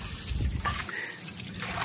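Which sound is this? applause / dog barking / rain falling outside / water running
water running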